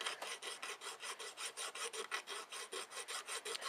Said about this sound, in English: you get your sandpaper, or my pocket knife has like a little file or so.